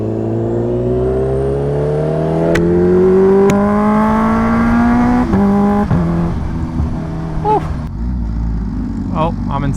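A Kawasaki H2R motorcycle engine under way while riding, loud and close, its pitch climbing steadily through a gear before dropping at a shift, with wind rush throughout.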